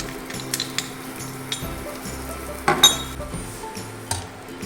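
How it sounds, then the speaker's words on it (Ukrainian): Sugar and gingerbread spice mix heating in a pot on medium heat while being stirred: a soft steady sizzle with a low hum, punctuated by a few light clinks and scrapes of the spoon against the pot. "Ставимо на середній вогонь та постійно перемішуємо."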